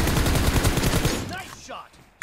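Rapid gunfire from the battle royale game PUBG, a loud close burst of repeated shots that cuts off abruptly, leaving quieter scattered game sounds.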